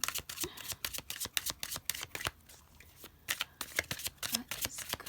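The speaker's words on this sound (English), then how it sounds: "You guys can feel free to fast forward through the shuffling if you'd like." A deck of tarot cards is riffled and shuffled by hand in quick repeated bursts of crisp snapping and flicking, close and clear, with brief pauses between rounds.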